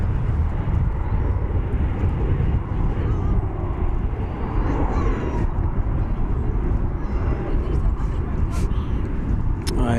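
Airliner on a flight from Doha roars steadily at DFW Airport, a broad continuous engine rumble that stays loud throughout, with faint voices mixed in underneath.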